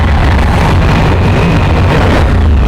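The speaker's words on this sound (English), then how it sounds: "Man, just started the engine up." A 2019 Suzuki V-Strom 1000 motorcycle engine running after start-up, a loud, steady low rumble with constant wind buffeting across the microphone and no voices.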